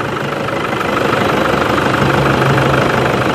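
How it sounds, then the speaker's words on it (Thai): A Toyota Vigo pickup diesel with leaking injector seals idles roughly, a loud, continuous knocking clatter with an uneven crackling rhythm close to the engine. "เสียงเครื่องยนต์มันแตกเหมือนขั้วข้าวตอก"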